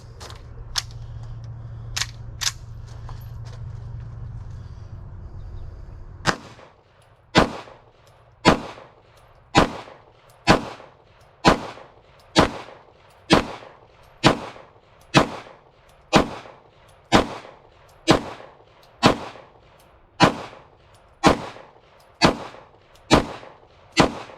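Pistol fitted with a Walther slide on a Canik TP9 SFX frame, firing about eighteen sharp shots at a steady, unhurried pace, loud and close, after a few seconds of low humming background.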